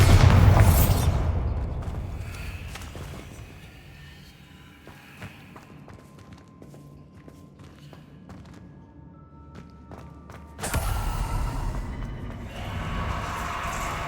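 A Bombarda blasting spell explodes in the Hogwarts Legacy video game, a loud booming burst at the start that fades into rumbling ambience, followed by another heavy blast later on.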